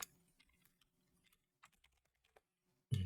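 Quiet, scattered key taps on a computer keyboard, a few soft clicks spread apart, then a louder thump at the end.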